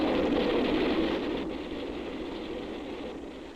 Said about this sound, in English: As this train approaches, let's see how close it comes before we hear it.